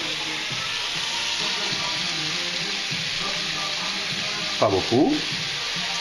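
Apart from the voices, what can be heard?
onion and garlic slices frying in a pan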